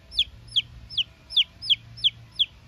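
A steady series of seven short, high chick chirps repeating at an even pace, close and fairly loud over a quiet low hum, in a village.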